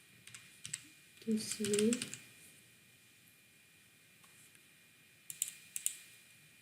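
Keys clatter on a computer keyboard at a PC on a small peer-to-peer network, a quick burst of typing followed by a pause and a few more scattered taps, close and moderately loud, with someone speaking briefly.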